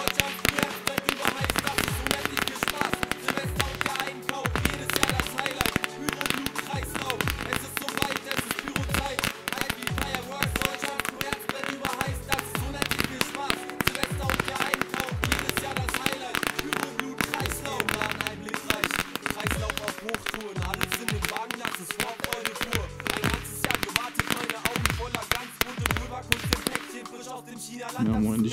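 A Phönix Big Bang firework battery fires a rapid, dense string of loud bangs and crackling reports for nearly half a minute, with voices talking over the barrage.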